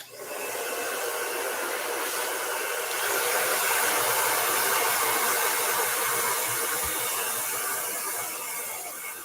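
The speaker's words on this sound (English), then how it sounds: "Blow dryer." A blow dryer blows steadily and loudly, close by, as a constant broadband whoosh that swells slightly partway through and runs the whole time without any talking.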